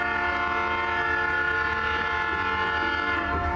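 A train roars past close by Irondale Café in Alabama, its horn blaring loudly and continuously over the rumble and clatter of the cars.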